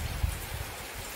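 A short stretch of rain falling outdoors in rural Maharashtra, a soft, even patter with low, uneven thumps of drops hitting a surface close by.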